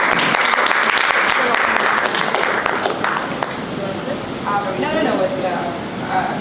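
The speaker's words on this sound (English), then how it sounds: "So please, let's give a round of applause." An audience at a Ukraine security conference applauds in a dense, steady wash of clapping that stays loud, then thins slightly, with faint voices mixing in toward the end.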